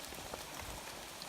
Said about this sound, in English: Rain keeps coming and going.